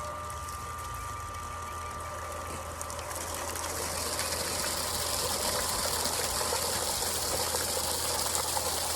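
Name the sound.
water gushing from pool sand filter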